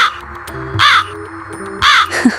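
Two harsh crow caws, close and loud, separated by about a second of quiet background.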